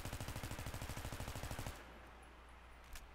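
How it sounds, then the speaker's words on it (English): Rapid full-auto bursts from a heavy-barrel M16 in a video game, one continuous magazine dump of evenly spaced shots lasting under two seconds, then abrupt stop with faint ambient tail. "Here's the M16 with a heavy barrel. Full mag dump"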